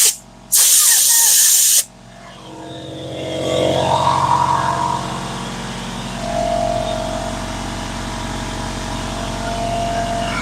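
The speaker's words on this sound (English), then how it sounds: "Take the air hose, grip this very tightly so I don't shoot it across the room." Compressed air from a shop air hose blasted at a Harley-Davidson carburetor, one loud, harsh hissing burst lasting just over a second, followed by a lower steady background hum and whine.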